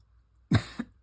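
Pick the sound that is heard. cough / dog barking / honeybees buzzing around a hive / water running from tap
cough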